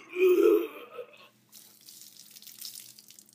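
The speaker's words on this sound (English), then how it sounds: "First punishment, puking on you." A cartoonish puking sound effect: a loud gagging retch followed by a fainter splashing, watery spill that trails off.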